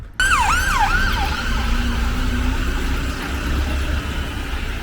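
Ambulance siren wailing loudly on an Edinburgh street, rising and falling in sweeping cycles, then settling into a steady tone over a continuous low road rumble.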